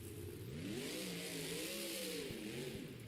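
A Monster Jam monster truck engine heard at a distance in a stadium, its throttle rising and falling in wavering revs over a constant roar of crowd and arena noise.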